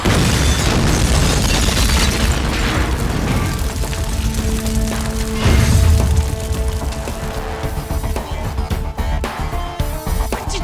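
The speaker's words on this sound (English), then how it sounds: "I'm only shooting the tires." Gunfire bursts in a rapid, loud volley aimed at a car's tires, dense cracks at first that thin out into sparser shots and ringing tones.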